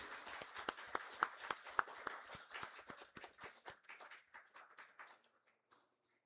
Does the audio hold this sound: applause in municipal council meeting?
yes